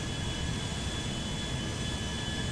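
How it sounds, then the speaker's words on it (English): Concorde jet engines in GTA 5 spooling up to full power, a steady, dense roar with a high whine running throughout, loud and constant. "You can hear the engines just go right back up to being fully powered."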